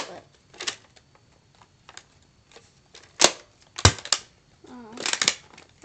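Nerf Zombie Strike Sledgefire blaster handled, with several sharp plastic clicks and clacks as the breech is opened and snapped shut, close and fairly loud between quieter rustling.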